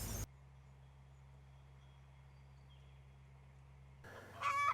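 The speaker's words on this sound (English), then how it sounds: "Here's our chickens." A quiet stretch of low electrical hum ends with a brief burst of chicken clucking close by, from chickens in a movable coop on a farm swale mound.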